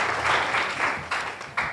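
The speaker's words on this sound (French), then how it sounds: "Veuillez l'applaudir s'il vous plaît." An audience at a book presentation applauds, making a continuous rush of clapping with several sharper, louder claps near the end.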